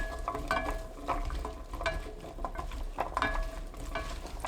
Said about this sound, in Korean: 팬에 밤호박, 연근, 식용유 3큰술 넣고 섞어줍니다